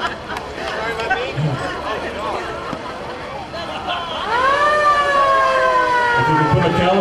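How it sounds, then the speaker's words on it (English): A 1925 Kenosha fire engine, number 32, built by the Kenosha Fire Engine and Truck Company, sounds its wailing siren in a street parade, rising loudly in the second half over crowd chatter and nearby voices. "This fire engine, number 32, is a 1925 Kenosha, manufactured by the Kenosha Fire Engine and Truck Company in Kenosha"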